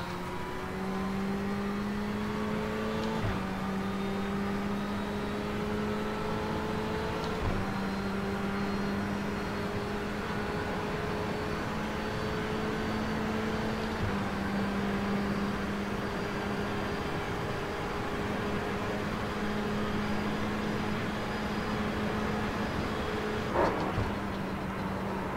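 A Ferrari race car lapping Le Mans in the iRacing sim, its engine droning steadily with repeated gear shifts and downshifts under heavy braking, loud and continuous throughout.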